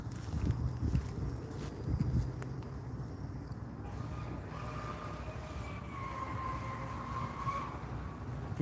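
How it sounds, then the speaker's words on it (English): A motorboat engine drones across a park lake, with a mid-range hum rising and falling as it passes at a moderate distance amid outdoor background noise. "If you hear that sound, that's their boat again."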